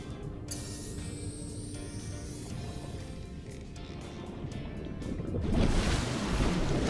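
Underwater ambience from the Subnautica video game: a steady, broad wash of muffled water and rumble that swells louder near the end, with no talking.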